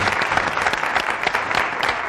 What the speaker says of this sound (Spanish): este aplauso inmenso para vosotros